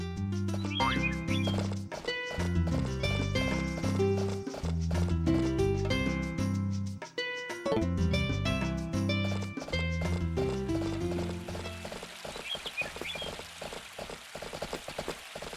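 A horse gallops in the video game Harvest Moon A Wonderful Life, its rhythmic clip-clop hoofbeats steady beneath looping game music for most of the stretch.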